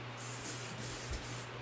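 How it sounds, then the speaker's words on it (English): A spray bottle hisses out a steady, continuous mist in a home kitchen, fairly quiet and close, with no talking. "Spray right in here in the kitchen first"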